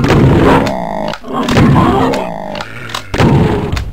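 Loud, booming gunfire in the video game Doom 2, several heavy shots with echoing blasts over a dense, rumbling soundtrack.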